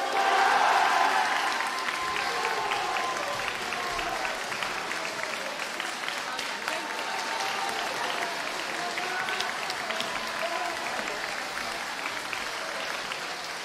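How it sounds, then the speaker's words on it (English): Sustained applause from a school audience at a house music competition, a dense, even clatter of many hands lasting the whole stretch, loudest at the start and then holding steady without talk. "Let's give them a huge round of applause as well."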